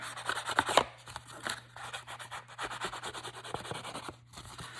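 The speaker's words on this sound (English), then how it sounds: "So I just rub my ink along the side of my scrap here." Soft, continuous rubbing and scratching as an ink pad is dragged along the edge of a scrap of paper, quiet and close with a faint steady hum underneath.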